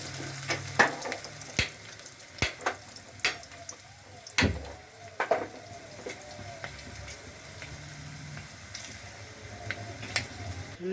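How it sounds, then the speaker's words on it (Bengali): Chanachur made from chickpea dal frying in a pan, a steady quiet sizzle of oil with repeated sharp clinks and scrapes of a ladle stirring and lifting the pieces, no talking. "এইভাবে কিন্তু আমি পুরো চানাচুরটাই ভেজে নেব"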